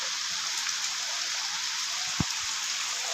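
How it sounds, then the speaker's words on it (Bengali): Heavy rain pouring steadily outdoors onto a waterlogged field, a dense even hiss with a few louder drips close by. "দেখো আমাদের এখানে কত জোরে বৃষ্টি হচ্ছে।"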